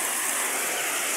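Very heavy rain pours during a thunderstorm, a loud, dense, unbroken roar of downpour that sounds close and constant.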